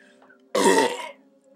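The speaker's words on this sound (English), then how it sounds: "Doomsday belch, I think." A single deep, drawn-out man's belch during a drinking game, loud and rough for about half a second, alone in a quiet room.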